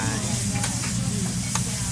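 Steady, loud sizzle of butter on a giant hot griddle, continuous broadband crackle throughout with a few brief sharper pops.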